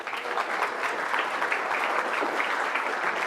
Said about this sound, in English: So give another round of applause for Dr.